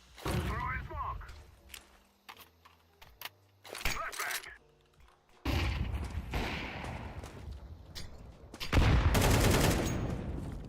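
A flashbang and a smoke grenade go off in a competitive online shooter match, with sharp bursts and hissing spread among gunfire-like pops and clatter. A player talks over parts of it.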